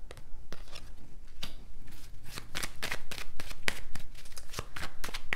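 Tarot cards shuffled and handled during a reading, a steady run of crisp riffling bursts and flicks close up, repeating rhythmically without talk.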